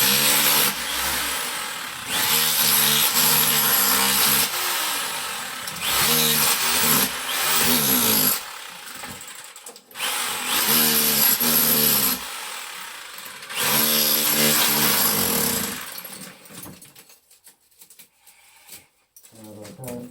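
Power drill boring into a plastered chimney stack wall, loud bursts of drilling with short pauses between, the tool grinding through plaster and brick, ending quieter.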